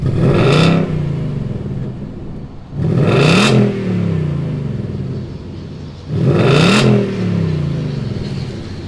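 A 2019 Ford Mustang GT California Special V8 roars through three loud, sharp revs spaced a few seconds apart, each settling back into a deep, rumbling idle between blips.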